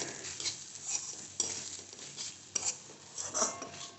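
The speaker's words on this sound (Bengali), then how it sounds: "তারপরে দেবো হচ্ছে ধনের গুঁড়ো, তারপরে একটু বেশি করে জিরে গুঁড়ো দিয়ে ভালো মতন একটু কষিয়ে নেব।" Coriander and cumin powder are stirred into a pan, giving faint scraping and clinking of a utensil against metal over a soft, low sizzle, with a few sharper knocks.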